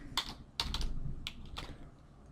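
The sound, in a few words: typing on a computer keyboard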